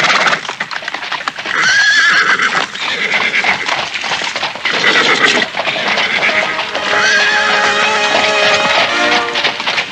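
A horse-drawn carriage departs with horses neighing loudly and repeatedly over clip-clopping hooves and rolling wheels, a busy close-up sound effect in a Javanese radio drama.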